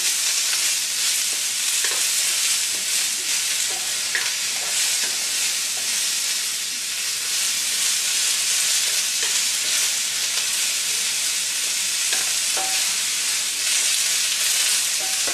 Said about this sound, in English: And we'll let these cook down and caramelize.